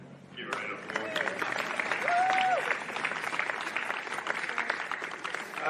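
A crowd at a Devonport City Strikers versus South Hobart football match applauds a retiring player, sustained clapping with a few whistles for several seconds while a voice speaks over it.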